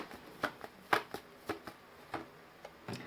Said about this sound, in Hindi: चलिए एक लास्ट कार्ड यहाँ से निकालते हैं